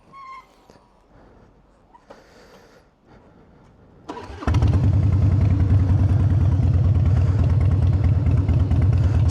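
A Harley-Davidson twin cam motorcycle on a beach goes quiet, cranks, then fires up and settles into a loud, steady idle with a deep, rhythmic lope.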